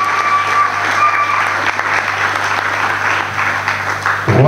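Audience applause at a school student-government investiture ceremony, loud continuous clapping from a crowd with faint voices mixed in.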